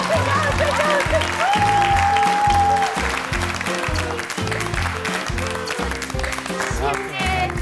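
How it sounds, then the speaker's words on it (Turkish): Studio audience applauds on a Turkish TV cooking show set, steady clapping running throughout over rhythmic background music, with a sustained tone and some voices mixed in. "Alkış, alkış, alkış."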